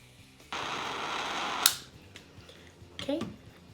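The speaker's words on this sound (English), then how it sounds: "I'm just going to take the torch and heat this up." A butane torch ignites with a sudden whoosh and roars steadily while heating a titanium nail, then cuts off after about a second with a sharp click, followed by a brief clatter of handling.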